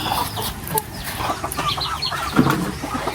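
Several chickens cluck and murmur nearby in a busy, irregular chorus alongside ducks waiting to be fed, with occasional rustling and scratching around them.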